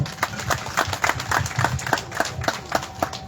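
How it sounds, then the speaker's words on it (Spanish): An audience at a commemorative ceremony claps in a steady, rhythmic beat, the individual claps sharp and close and evenly spaced throughout. "Fuertes los aplausos, por favor."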